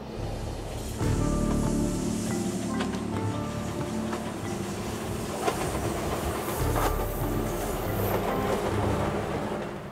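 Train rolling through the Kyushu countryside of southern Japan, a steady low rumble with rhythmic clicking of wheels over rail joints and light hiss, heard from inside the carriage without voices.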